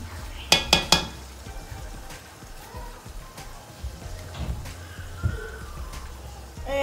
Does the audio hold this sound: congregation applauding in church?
no